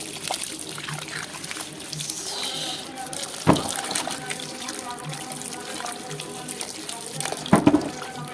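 Mangoes being washed in running tap water at home, a steady splashing flow with a couple of louder sloshes as fruit is handled, while someone talks over it.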